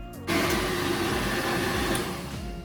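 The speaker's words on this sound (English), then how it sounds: "Let your blender run and make your slurry nice and smooth." A Vitamix blender starts up and runs steadily on a cinnamon and vanilla slurry, a loud close motor whine that kicks in abruptly and holds, with no talk.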